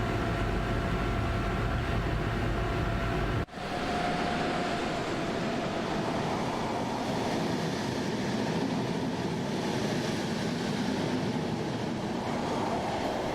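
A BR DB 103 electric locomotive in Train Sim World 3 runs steadily along a line by the Rhine, a continuous loud rumbling cab drone with a brief sharp dropout, then the steady roll and rail noise resume.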